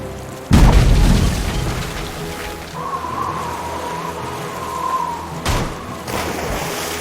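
Ship's cannons fire in the pirate adventure game Tales of Monkey Island, with a heavy booming blast, a rumbling tail, and a second boom a few seconds later over ambient game sound.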